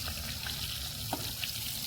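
Fish frying in a pan, a faint continuous crackling sizzle with a couple of small pops, no voices.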